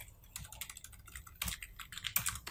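Fingers type on a computer keyboard in quick, irregular clusters of soft clicks, entering bank account details, with quiet gaps between bursts.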